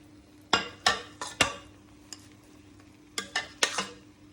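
Hilsa fish pilaf is scooped out of a cooking pot. A spoon lands several sharp scrapes and clinks against the pot in two quick clusters, with a quiet pause between them.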